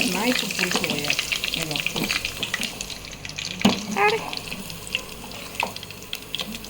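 Green and dried red chillies, cumin and curry leaves crackle and sputter in hot oil for a fish pulusu, with scattered pops and stirring over a steady frying hiss and occasional faint voices.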